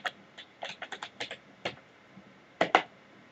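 Keystrokes on a computer keyboard spelling out localhost, a run of about nine close, crisp clicks in an uneven rhythm, then a short pause and two louder final taps, with no voices.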